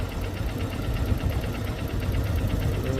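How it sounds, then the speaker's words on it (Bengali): Several boat engines chug past in a steady line, a continuous loud low rumble with rhythmic knocking pulses and vibration, close by and without speech. "কত বোট যাচ্ছে লাইন নিয়ে সামনে কতগুলো বোট যাচ্ছে"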